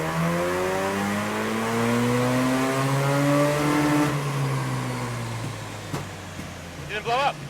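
Mazda RX7 rotary engine pulled at full throttle on a dyno, a loud climbing whine rising steadily for about four seconds, then easing off as the revs fall, with a voice speaking near the end.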